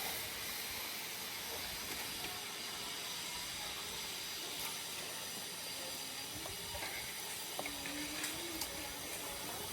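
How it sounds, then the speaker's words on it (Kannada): Washed chicken dropped into a hot tempering for a country-chicken curry (naati koli saaru), giving a steady, dense sizzling hiss that runs throughout with faint clatter underneath. "ಚಿಕನ್ ತೊಳೆದಿರೋ ಚಿಕನ್ನ ಇವಾಗ ಹಾಕ್ತಾ ಇದ್ದೀನಿ ಒಗ್ಗರಣೆಗೆ."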